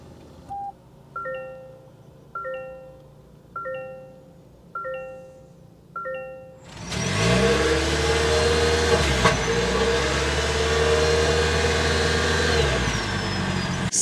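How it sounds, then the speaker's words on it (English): A 2024 Toyota Crown Limited fires up from inside the cabin after a series of repeated chimes, its engine catching abruptly and settling into a steady, loud idle with a broad exhaust rumble. "start it up so you can hear that exhaust note"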